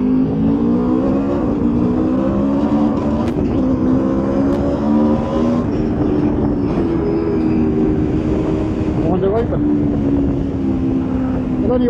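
An Aprilia RSV4 1100 Factory motorcycle ridden on winding roads, a steady loud engine drone that rises and falls through gear changes, heard close from on board with little else over it.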